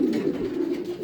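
Racing pigeons coo in a loft after returning from a race, a continuous low, throaty murmur of several birds heard up close without talk.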